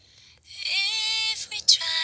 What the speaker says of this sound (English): The high pass filter is cutting all the low frequencies,